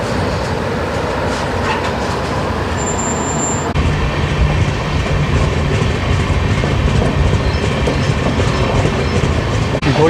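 Loud, continuous rumble and rhythmic clatter of the moving Himgiri Express passenger train leaving Asansol, heard from inside, with steady wheel noise throughout.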